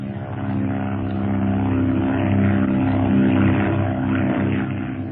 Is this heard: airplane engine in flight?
yes